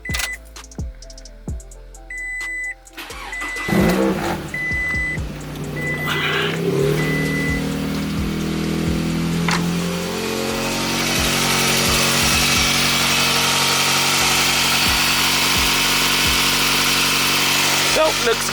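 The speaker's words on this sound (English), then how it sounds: "We're about to give it the first startup in a while." A Scion tC engine is started after alternator, water pump and thermostat repairs: clicks and a brief cranking whir, then the engine catches and settles into a loud, steady idle that continues to the end.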